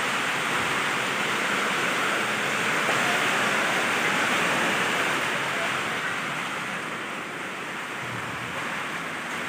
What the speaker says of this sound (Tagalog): So, ito na yung tubig. Abot na sa aming loob ng bahay, oh.